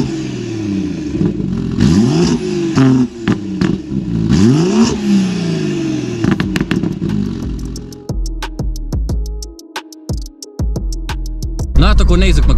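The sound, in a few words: xDrive car with 2JZ engine accelerating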